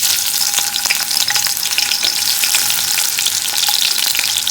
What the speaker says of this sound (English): So my pot is very hot. I'm gonna add some oil.